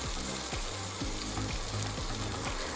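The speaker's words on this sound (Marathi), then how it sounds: "सुकामेवा मंदा आचेवर भाजल्यावर त्यातील ओलसरपणा निघून जातो" Dry fruits roast in ghee in a pan over low heat, giving a steady, close sizzle with faint scraping stirs every half second or so, and no one speaking.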